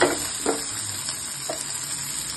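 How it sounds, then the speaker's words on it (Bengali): A peanut thecha mixture gets a light stir in a pan after the stove is switched off. Soft sizzling lingers in the background under a few brief scraping strokes, close by and moderately quiet, with no voices. "হালকা একটু নাড়াচাড়া করে"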